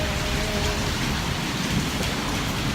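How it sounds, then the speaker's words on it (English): Heavy rain in Puerto Rico pours down steadily, a dense loud hiss of water drumming on surfaces with no pause. "It's raining so hard in Puerto Rico."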